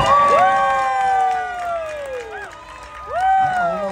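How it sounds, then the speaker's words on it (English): An audience at a live music performance in Redwood City cheers loudly, with sustained whoops and shouted voices swelling and falling over a brief crowd roar. "have an extra, please, round of applause for Ash"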